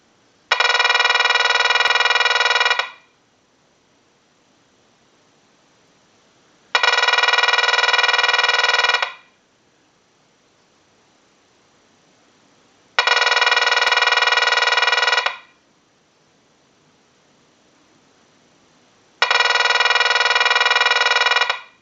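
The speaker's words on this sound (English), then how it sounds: "use the analyzer and send a ring cycle like you were getting a call" A Harris TS22AL telephone linesman buttset rings in four evenly spaced bursts from an analyzer ring cycle, each about two seconds long with quiet pauses between, sharp electronic ringing close by.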